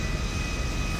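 In the GTA 5 video game, an airplane's engines roar steadily as it takes off, a loud, unbroken, full-bodied drone heard alone.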